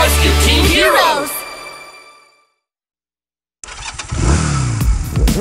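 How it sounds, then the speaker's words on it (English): Cartoon motorcycle engine starting and revving up, a loud buzzy burst that fades to silence, then kicks back in with rising revs, mixed with sung or spoken voices in a children's song. "Vroom, vroom, motorcycle."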